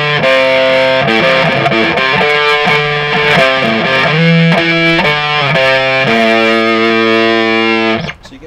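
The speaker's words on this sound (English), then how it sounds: "So this is a classic 70s era Hendrix fuzz face." Electric guitar played through a classic 1970s-era Hendrix Fuzz Face pedal, loud and heavily distorted, with a run of aggressive, buzzing notes and chords that cuts off abruptly at the end.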